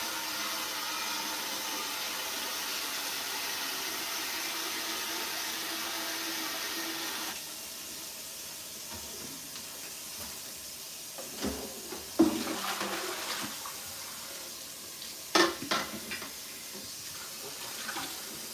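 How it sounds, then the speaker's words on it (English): Tap water runs steadily into a pot being rinsed of chicken broth scraps, a strong continuous rush for several seconds, then quieter trickling with a few close splashes and clunks of the pot. "Now I'm going to rinse this out again."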